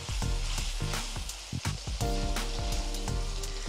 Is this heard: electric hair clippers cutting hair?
no